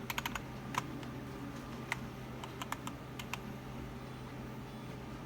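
Keys tapped on a computer keyboard in short irregular bursts, close by, over a steady low hum.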